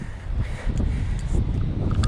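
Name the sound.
wind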